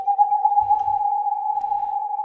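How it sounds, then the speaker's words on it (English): A sampled loon call set in a progressive house track: one steady, sustained wailing tone held for the full two seconds, loud and clear, with a faint low thump briefly underneath. "I think it's actually a loon, which is a really respected Canadian animal."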